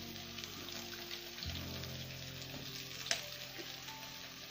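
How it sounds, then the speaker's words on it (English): Cooking oil sizzling on beef in a pan during village cooking in Kenya, a steady soft crackling hiss with a few sharper pops, fairly quiet, with faint background murmur and no clear speech. "I'm going to put some cooking oil on top like this."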